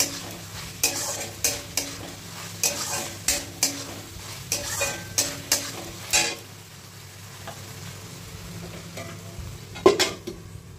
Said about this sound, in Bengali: এর মধ্যে আমি দিয়ে দেবো কাঁকরোলটা।